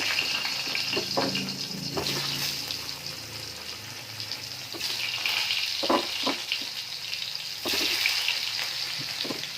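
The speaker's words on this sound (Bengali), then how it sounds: "এভাবে অল্প অল্প কড়াইয়ে আলুগুলো ভাজলে আলুগুলো গায়ে গায়ে লেগে যায় না।" Potatoes frying in oil in a kadai, a small batch at a time, with a continuous close sizzle and a few clinks and stirring knocks, no voices.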